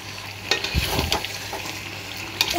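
Bhetki fish curry is stirred in a hot pan with soft scraping strokes over a steady sizzle, close and fairly loud, with no voices.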